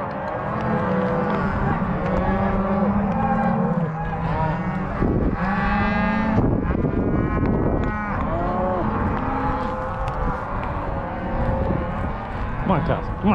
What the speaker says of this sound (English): Come on, cows. Come on.